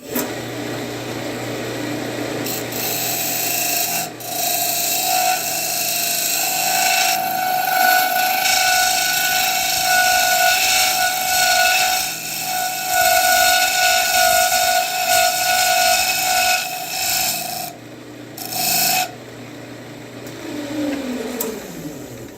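A wood lathe spins a segmented cherry ring with a loud, steady motor whine while a tool scrapes the turning wood, carrying on for over twenty seconds with brief dips in pitch and load, close and continuous.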